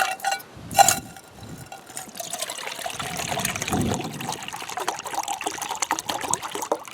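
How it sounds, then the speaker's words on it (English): Water poured into a cooking pot to rinse it out at an outdoor back-step cooking spot, a short splash near the start followed by a steady close trickle and gurgle running for several seconds. "I'm going to give my pot a rinse out first"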